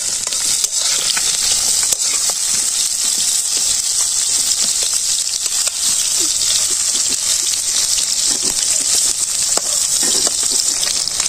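Pointed gourd frying in mustard oil in a village kitchen gives a loud, continuous close sizzle with faint crackles and occasional stirring scrapes.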